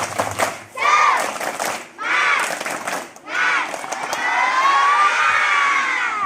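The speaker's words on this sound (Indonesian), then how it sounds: "Tepuk tangan, mantap." A group of schoolchildren at an elementary school in Grantung shout a rhythmic clapping cheer in unison, loud and close, with voices rising and falling in repeated bursts and a sustained chanted call at the end.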